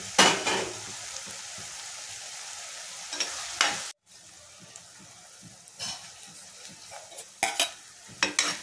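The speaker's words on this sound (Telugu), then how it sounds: "ఉల్లిపాయలు బాగా వేగాలి. ఉల్లిపాయలు మగ్గటానికి కొంచెం సాల్ట్ వేసుకుందాం." Onions sizzle in hot oil in a pan after a pinch of salt goes in, cooked as the base of an egg and dry fish curry, with a steady close fry, scraping stirs and a brief pause partway through.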